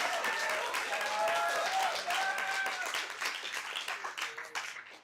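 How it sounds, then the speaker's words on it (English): An audience at an astronomy talk bursts into loud sustained applause and clapping, with a few cheers and voices mixed in, tapering off over the last seconds. "Everybody give Sam a round of applause."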